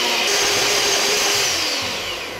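An electric hand mixer whirs steadily through sugar cookie dough ingredients with a pinch of salt and almond extract, a loud close motor whine that tapers off toward the end.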